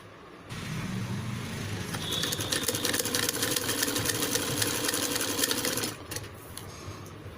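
Sewing machine stitching a princess-cut padded blouse, a fast steady mechanical chatter running for several seconds at close range, then stopping, with no talking.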